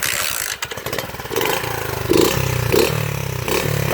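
A pit bike engine trying to start, sputtering and clattering in short uneven bursts that catch briefly before faltering, heard close by.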